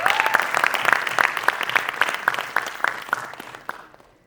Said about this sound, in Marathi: एकदा जोरदार टाळ्या सिद्धार्थसाठी